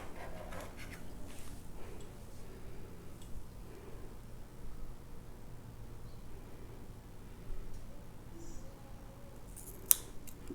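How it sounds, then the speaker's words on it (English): Household scissors snipping through hair during a home haircut, a few faint, scattered crisp cuts over quiet background hiss with one sharper snip near the end. "Oh, these scissors suck."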